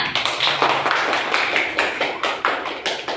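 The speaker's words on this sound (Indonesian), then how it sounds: "Tepuk tangan untuk kelompok singa." Children in a classroom clap together for a group that has just presented, a dense, fairly close burst of hand claps lasting about three seconds with no talk over it.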